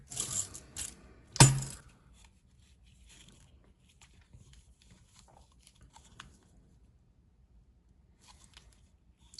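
Silver coins, including a Mercury dime and a Buffalo nickel, clink and drop against one another as they are handled, with one sharp, bright metallic strike early on and soft, faint rattles and handling sounds afterward, close and without talking.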